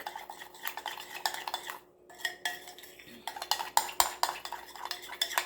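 Sauce for a quick meatloaf being stirred in a bowl, with a utensil clinking and scraping in rapid, uneven strokes, close and fairly loud with a brief pause partway through and no speech.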